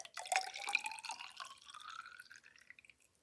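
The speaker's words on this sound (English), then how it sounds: "I'm going to slowly add water to both test tubes." Water trickles slowly into glass test tubes, a thin dripping, filling stream that starts bright and gradually deepens in pitch as the tubes fill, quiet and close with no voices.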